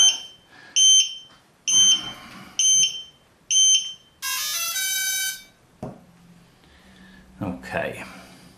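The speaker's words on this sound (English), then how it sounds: "at least that shut the beeping up" Several sharp electronic beeps repeat in bursts from a Cheerson CX-20 drone after its battery is connected, followed by a rising chirpy tone sequence, then some handling noise and a brief voice.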